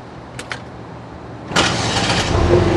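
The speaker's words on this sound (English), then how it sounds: "Let me hear that engine." A car engine cranks and catches after two faint clicks, then runs loudly and steadily, rising a little toward the end, close by and without talk.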